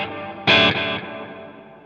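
An electric guitar chord rings out through a long delay and hall reverb pedal setup, a bright struck note followed by a smeared repeat and a lingering ambient tail that slowly fades.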